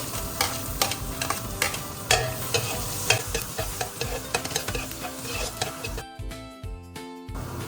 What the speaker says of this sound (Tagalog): Igisa na natin ang bawang.